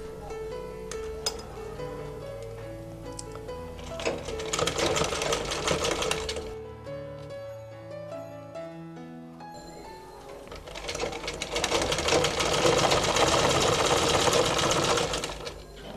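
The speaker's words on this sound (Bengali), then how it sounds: "এই সাইডে আমি সেলাইটা করবো।" A sewing machine stitches cloth for a half-collar dress in close, steady bursts of rapid mechanical whirring, pausing briefly midway before running again, with no voices.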